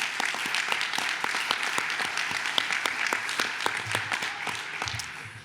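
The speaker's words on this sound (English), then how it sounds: "Give yourselves a round of applause for that." Employees at a power plant legacy event break into applause, a lively, steady round of clapping with a few crisp close claps, fading away in the last second.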